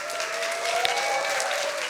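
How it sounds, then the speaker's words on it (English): Audience at a science slam event applauding a speaker as he comes down the stairs, an even, sustained wash of clapping from a crowd, fairly loud and continuous. "Give him a warm round of applause"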